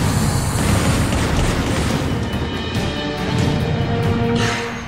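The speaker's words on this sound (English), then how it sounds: "So this meteor attack, you avoid it by getting to the edge of the screen." A meteor attack explosion from a mile-high giant made of fire in the video game El Shaddai, a loud sustained rumbling boom that rolls on for several seconds and fades slightly at the end.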